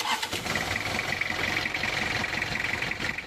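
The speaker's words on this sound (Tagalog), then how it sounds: "o start na natin itong makina" A Toyota Revo engine turns over and settles into a running idle after new alternator and steering belts are fitted, with a steady mechanical drone and a persistent belt whine throughout, fairly close.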